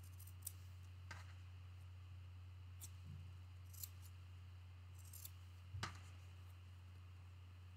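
Scissors trim the dog-ear corners off quilt block fabric, a handful of short, quiet snips spread across the stretch over a steady low hum, with no talking.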